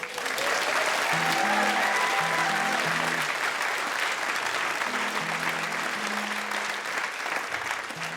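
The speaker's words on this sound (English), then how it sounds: "I think we should definitely clap him" A live comedy audience claps for a comedian in a sustained, dense burst of applause, with some faint voices and tonal background sounds under the clapping.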